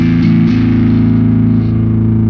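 A loud Ibanez SRMS625EX bass guitar drones with a thick, midrange-heavy distorted tone, mids boosted, sustaining low notes with a brief shift early on.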